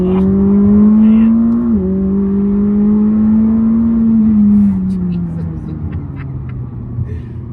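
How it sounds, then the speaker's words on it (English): A McLaren 600LT sports car engine drones loudly and steadily up close, its pitch holding then dropping as revs fall away, with a brief shift partway through. "The McLaren sound gets criticized, but I love this sound."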